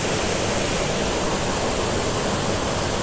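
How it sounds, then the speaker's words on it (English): Bukal Falls in Majayjay, Laguna, a waterfall about 15 feet high, roars as a steady, dense rush of falling water that fills the clip evenly with no talking. "There's another waterfall, and that's like 15 feet."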